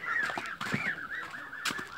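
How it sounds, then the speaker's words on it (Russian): A hen in a poultry yard gives a run of soft, rhythmic clucks across the whole stretch, fairly close and moderately loud, with no talking over it. "Но сейчас вам покажу еще ту курочку,"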